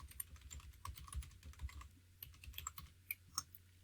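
Fingers tap a web address on a computer keyboard, a quick, uneven run of soft clicks and key strikes, close and quiet with no talking.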